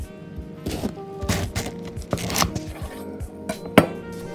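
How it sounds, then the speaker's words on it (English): Knife chopping cabbage for coleslaw on a cutting board, a run of crisp, uneven chops at close range with sharper strikes near the end, no talking. "Step 1, the chopping."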